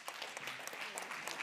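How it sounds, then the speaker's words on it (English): Applause from an awards-ceremony audience honouring a women, peace and security envoy, a steady, fairly faint wash of clapping with no talk. "We'll still give her a round of applause."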